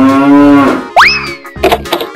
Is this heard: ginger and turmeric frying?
no